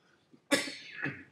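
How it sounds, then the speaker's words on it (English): A single sharp cough bursts out close to the microphone, with a quieter second expulsion trailing just after in an otherwise quiet room. "Pardon the cough."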